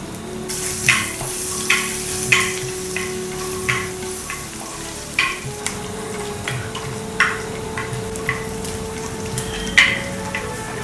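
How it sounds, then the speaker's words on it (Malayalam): Sliced onions and curry leaves fry in a pan for a bean mezhukkupuratti, giving a steady close sizzle with regular spoon strikes against the pan, each sharp tick repeating every second or so. "കുറച്ചൊന്ന് ഉള്ളി വാടി വരുമ്പോൾ കുറച്ച് കറിവേപ്പിലയും കൂടെ ഇടുക."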